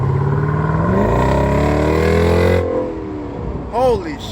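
A 2019 Dodge Durango SRT's 6.4-liter 392 V8 exhaust revs up hard, its rising tone climbing steadily before dropping off, with a short extra blip near the end; loud and close, no talking over it.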